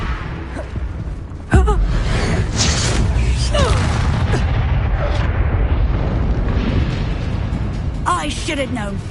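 A Confringo fire spell blasts in Hogwarts Legacy, one sharp loud burst followed by sustained crackling rumble and scattered impacts beneath ongoing game noise.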